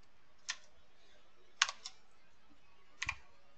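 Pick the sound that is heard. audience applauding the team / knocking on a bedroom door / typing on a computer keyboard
typing on a computer keyboard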